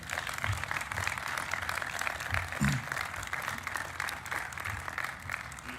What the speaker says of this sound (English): Now we may applause.